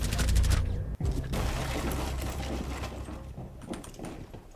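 Suppressed gunfire in Rainbow Six Siege: dense, rapid muffled shots over busy game noise, with a sharp break near the start and the firing thinning toward the end; voices chat over it.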